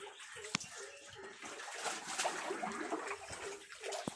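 Water flows and splashes out of a fish pond stocked with African catfish as it is drained, a soft, uneven gurgling stream with a sharp knock early on, with no voices.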